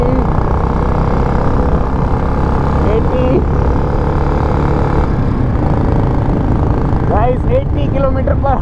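A restored 2004 Royal Enfield Bullet Standard motorcycle cruising at 80 km/h, a loud steady engine drone with heavy wind rush, someone speaking briefly over it near the end.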